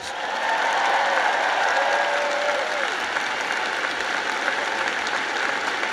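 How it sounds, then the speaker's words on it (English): A graduation ceremony audience applauds the graduates' parents, grandparents and families: dense, steady clapping from a large crowd that holds for the whole stretch, with faint voices in it near the start. "let's give a big round of applause to your incredible parents, grandparents, and family members"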